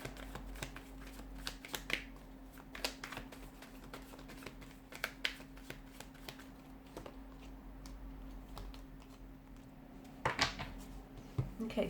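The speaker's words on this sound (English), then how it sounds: "I just want to pull a few more cards to crown the reading." Tarot cards being shuffled and drawn by hand make crisp, rapid riffling clicks and soft snaps in irregular bursts, close and fairly quiet, with a low steady hum beneath.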